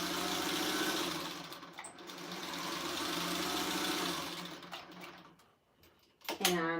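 A sewing machine stitching a narrow fabric selvage runs steadily for several seconds, then stops, followed by a brief sound near the end.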